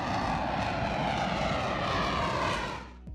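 Jet aircraft engine roaring on an aircraft carrier deck, a loud, dense, continuous rush of noise that holds steady and then fades off near the end.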